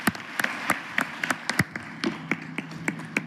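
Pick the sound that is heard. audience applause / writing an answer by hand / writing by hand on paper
audience applause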